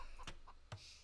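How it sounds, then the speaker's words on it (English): Chickens cluck on the map in Age of Empires II, a few short, sharp clucks spaced apart over a quiet game background. "We've got some chickens out on the map as well."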